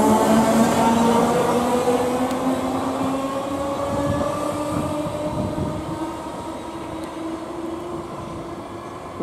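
A Class 313 electric train departs Havant, running steadily nearby with a sustained motor whine that slowly shifts pitch over a low rumble of wheels on track.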